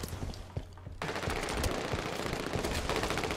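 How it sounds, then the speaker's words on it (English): Rapid automatic gunfire rattles in Halo 5 multiplayer, a loud dense stream of shots that starts abruptly after a brief quieter stretch of scattered bursts and keeps going steadily. "Pretty sure someone just shot me from behind then."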